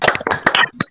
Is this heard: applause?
yes